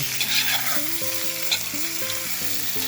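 Meat, carrots and potatoes frying for bograch by a wild lake, a close, steady sizzle with gentle crackles and soft music-like tones in the background.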